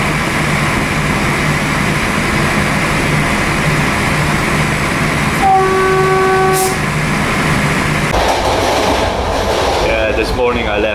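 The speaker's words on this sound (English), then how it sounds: "This is a nice train ride." A train rolling on rails on a ride out of Serbia toward Budapest, a loud steady rumble of the carriage with a brief whistle-like tone midway, heard from inside.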